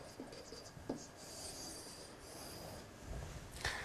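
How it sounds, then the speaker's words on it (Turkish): Marker or chalk scratching across a board during an eighth-grade Turkish lesson, a few short strokes with a longer rubbing stretch, close and fairly quiet with no talk. "Buraya da yazıyorum."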